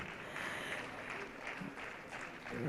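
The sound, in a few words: audience applause for volunteers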